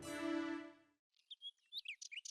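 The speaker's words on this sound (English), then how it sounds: "Next day, Birbal arranged to release the trained parrots in a palace room." Trained parrots chirp in a palace room: a long sustained tonal whistle fades out, then a quick run of sharp, bright chirps follows after a short pause, close and clear with no talk.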